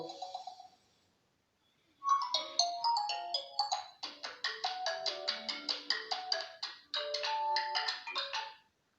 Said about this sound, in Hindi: रिंगटोन्स में आ जाते हैं और यहाँ पर चला लेते हैं रिंगटोन्स को